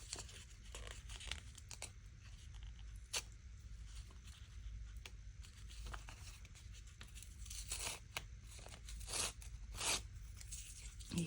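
Paper being torn away from fabric stitching after being scored, a soft, intermittent ripping and crinkling in short bursts, close and quiet with no talking.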